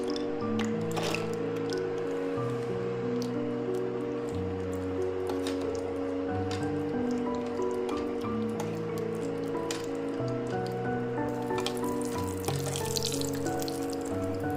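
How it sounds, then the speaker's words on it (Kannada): Cashews roast in a spoonful of ghee for carrot milk payasa, making a soft, steady sizzle and bubbling crackle close by that goes on throughout without a break. "ಒಂದು ಚಮಚದಷ್ಟು ತುಪ್ಪ ಹಾಕಿದ್ದೀನಿ ಮೊದಲಿಗೆ ಗೋಡಂಬಿನ ಹುರ್ಕೋತಾ ಇದ್ದೀನಿ"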